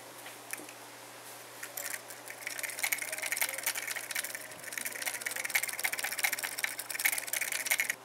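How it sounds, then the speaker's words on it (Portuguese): A small homemade electric motor built from a magnet and a circular coil runs on batteries, giving a faint, fast buzzing rattle that grows steadier and slightly louder, close by and without speech. "Mostraremos agora o funcionamento do primeiro motor."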